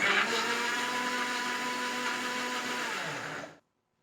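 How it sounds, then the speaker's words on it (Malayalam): An electric blender whirs at a steady high speed, churning sweet potato with milk into juice, running close and even for about three and a half seconds before cutting off abruptly. "ഇനി നമുക്ക് കുറച്ച് പാലും കൂടി ഒഴിച്ചിട്ട് അവിടെ അടിച്ചെടുക്കാം"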